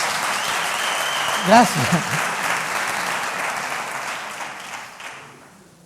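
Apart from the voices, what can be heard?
audience ovation at TEDx talk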